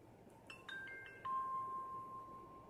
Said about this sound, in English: It does a little chiming noise on startup.